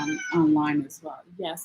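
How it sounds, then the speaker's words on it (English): A pet cat meows a few times close by, drawn-out and vocal, mixed in with someone speaking. "that's my cat talking"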